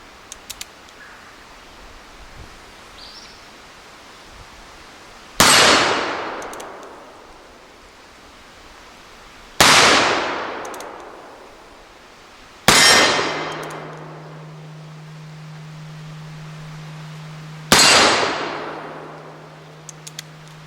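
Gunshots from a Model 1890 Remington revolver on an outdoor shooting course, striking steel targets: four loud, sharp cracks a few seconds apart, each trailing off in a long metallic ring, with one target leaving a steady low hum.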